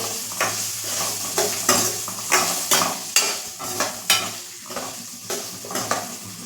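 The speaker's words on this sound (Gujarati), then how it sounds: "બટેકા એડ કરી આપણે બરાબર મિક્સ કરી લેશું" Potato pieces get stirred into a frying eggplant curry, giving repeated spoon scrapes and clatter against the pot over a soft, steady sizzle, with no voices.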